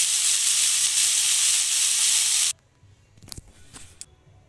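Leafy greens dropped into hot oil with black cumin give a loud, bright sizzle that cuts off abruptly, followed by a few faint clinks and stirring sounds.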